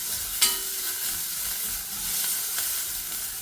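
Crushed garlic cloves, skins still on, frying in hot oil for tomato rasam, giving a steady close sizzle throughout with one sharp clatter early on.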